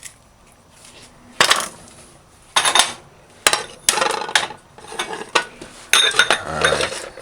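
A knife dices beef on a cutting board for a home pot roast: a series of sharp, separate chopping knocks in irregular bursts, fairly close and loud, with no talk over them.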